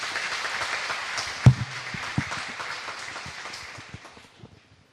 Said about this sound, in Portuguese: Vamos aplaudir a palavra de Deus para cada um de nós.